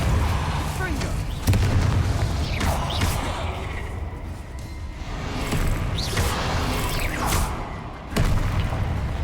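Confringo blasting spells explode in the video game Hogwarts Legacy, a run of heavy booming bursts spaced a couple of seconds apart, loud and close over a dense rumbling game soundscape.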